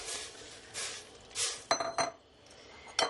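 Potatoes are dropped into a pot of boiling water while making a Mediterranean vegetable stew, giving a few close, sharp clinks and clunks against the metal pot in separate bursts, with no talking.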